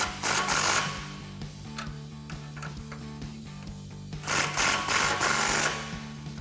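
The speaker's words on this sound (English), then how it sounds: "Now we can go through and tighten all of our clamps, starting from the front, using our 15mm socket." Exhaust clamps on a 2015-2023 Ford Mustang EcoBoost with a Flowmaster Outlaw axle-back exhaust are tightened from underneath the car with a 15mm socket, giving close, rapid bursts of ratcheting clicks in two strong spells.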